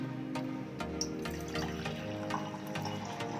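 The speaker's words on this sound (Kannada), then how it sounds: "ಈಗ ನಾನು ಆ ಕಷಾಯನ ಒಂದು ಗಾಜಿನ ಬಾಟಲ್ಗೆ ಹಾಕ್ತಾ ಇದ್ದೀನಿ." Homemade herbal cough decoction trickles into a glass bottle, a close, continuous liquid pour with small drips and splashes in a quiet room.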